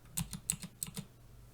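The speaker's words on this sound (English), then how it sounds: "I'm going to type in the student's password" A password is typed on a Macintosh computer keyboard: about seven quick, crisp keystrokes in an uneven run, close and fairly quiet, then a short pause of silence.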